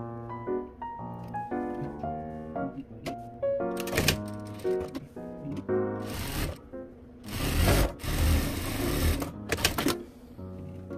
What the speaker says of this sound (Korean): 원래 재봉선대로 쭉 내려서 박음질 해주시면 돼요